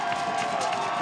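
High school football crowd at a state final, Benilde-St. Margaret's against DelaSalle, a dense continuous roar of cheering from the stands, loud and unbroken.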